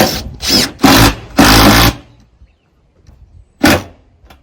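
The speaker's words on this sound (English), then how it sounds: "So there are a lot of screwing to be done." A power drill drives screws into veranda decking in four loud, close bursts of whirring, each lasting under a second, then a quiet pause before one more short burst.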